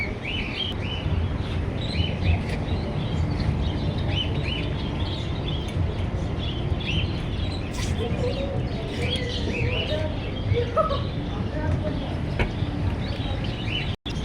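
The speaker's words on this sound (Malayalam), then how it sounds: "വിശാലമായി പറന്നു കിടക്കുന്ന ഒരു കിളിക്കൂട്ടിലേക്കാണ് നമ്മൾ വന്നത്." Many birds chirp and tweet throughout a spacious, air-conditioned aviary housing parrots, a busy layer of overlapping calls over a steady low hum, with people talking nearby.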